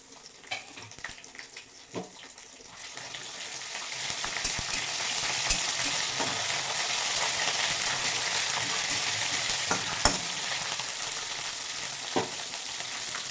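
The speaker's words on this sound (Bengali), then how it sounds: "পেঁয়াজ অনেকটা ভেজে নিয়েছি এবার দিয়ে দেবো আদা বাটা" Onions sizzle steadily in a hot pan as ginger paste is added, a loud continuous frying hiss close up with occasional stirring clinks and scrapes.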